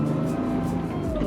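A custom 1987 Porsche 911 Targa accelerates on the freeway, its engine droning steadily under throttle with a rising tonal hum and road noise, close and continuous.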